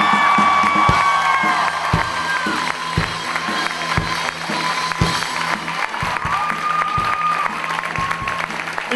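An audience at a high school concert gives a musician loud, sustained applause with cheers and whoops, the clapping dense and continuous throughout.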